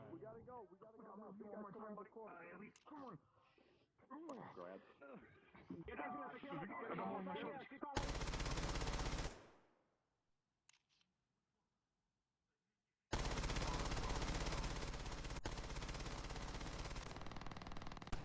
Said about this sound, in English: They're shooting at the alleyway, despite no one following them. I mean, it's suppressive fire